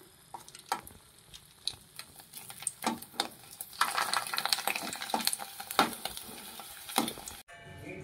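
Tempering for dal crackles in hot oil in a home kitchen, with scattered sharp pops and spits that grow denser and louder midway over a continuous sizzle.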